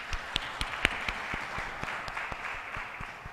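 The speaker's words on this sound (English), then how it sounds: "Can we please give them a big hand of applause?" An audience at a data protection workshop applauds panelists at the end of a session, with scattered, fairly faint claps in an uneven rhythm heard from a distance.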